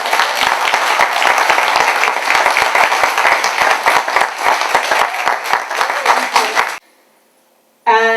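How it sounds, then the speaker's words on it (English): Loud, steady audience applause for a human rights activist at a zero tolerance event against female genital mutilation, dense clapping lasting several seconds before cutting off abruptly into near silence, then resuming briefly at the end. "Give her a big round of applause."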